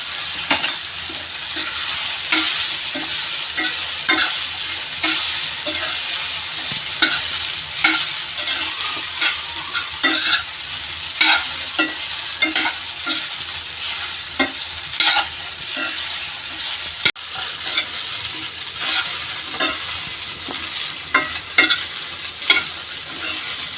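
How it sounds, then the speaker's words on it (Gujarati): Boiled potatoes stirred in a frying pan for batata poha, a spoon scraping and turning them in rhythmic strokes over a continuous bright sizzle of frying, close and loud with no talk. "આપણે બટેકા એડ કરી દઈશું અને હલાવી નાખીશું"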